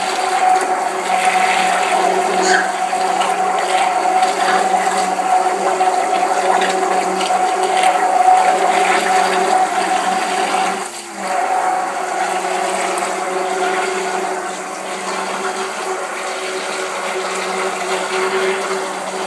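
Dutch oven pancake batter being whipped by hand in a bowl, a steady, continuous scraping and churning that runs unbroken for nearly twenty seconds with a brief dip midway.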